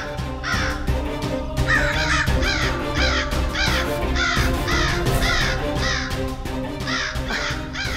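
Several crows caw loudly and repeatedly in an overlapping, steady chorus close by, over a continuous background hum.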